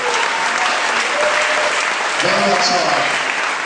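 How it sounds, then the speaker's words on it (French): A church congregation at a thanksgiving offering service claps loudly and continuously in sustained applause. A voice speaks briefly over it. "Maintenant, acclamez-vous vous-même."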